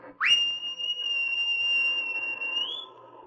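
A sergeant's whistle in an old radio drama: one sustained, shrill, steady blast lasting about three seconds, rising slightly in pitch at the end, heard alone and up close.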